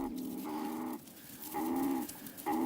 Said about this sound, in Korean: 이 소리는 주위에 뱀이 있다는 걸 의미합니다.